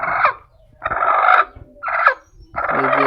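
A golden chicken hen sitting on eggs gives four loud, harsh calls of about half a second each, separated by short pauses, close to the microphone with no talking.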